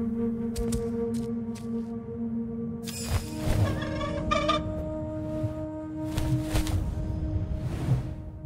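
A bird in the video game Gollum gives several short squawking, gobbling calls amid rustling ambience and a few whooshing movements, fairly close and moderately loud.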